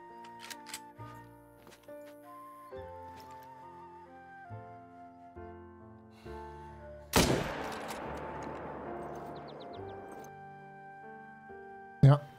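A hunting rifle fires once in the hunting game theHunter: Call of the Wild, a sudden sharp crack with a long echoing tail, over quiet background music, followed near the end by a brief thump.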